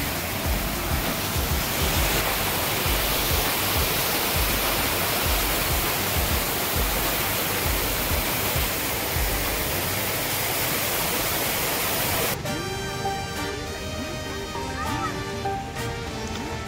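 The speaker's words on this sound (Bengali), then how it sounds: "দেখো ঝর্ণা।" A park waterfall fountain at Eco Park in Kolkata pours in a steady, loud, broadband rush of falling water that fills the whole span, with faint music or tones joining near the end.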